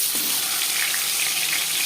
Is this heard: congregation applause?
no